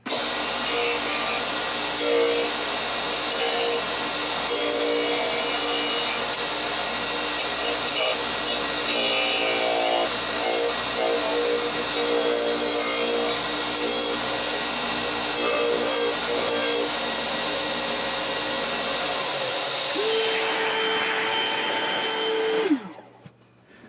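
A grinding wheel works the toe of a rubber recoil pad held in a Miles Gilbert jig, a steady loud abrasive whine running almost unbroken for over twenty seconds before the motor cuts off and spins down.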